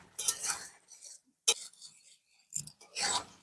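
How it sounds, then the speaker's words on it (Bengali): Masala gravy for an egg curry being stirred in a pan, heard as a few short bursts of scraping and clinking of a spoon against metal separated by pauses, close and fairly quiet. "একটু এই মশলাটা একটু কষিয়ে নিই তারপর ডিমটা দেব"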